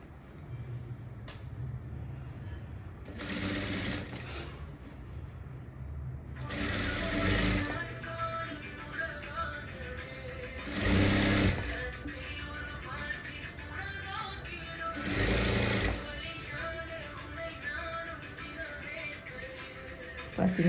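A tailor's sewing machine stitches a ready-made nighty during an alteration, running in several bursts of whirring that start and stop between quieter stretches, with faint talk in the background.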